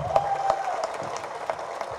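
Audience applauding at a Tamil film audio launch event, a steady wash of clapping from a large crowd with a faint tonal hum underneath.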